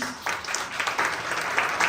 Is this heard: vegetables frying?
no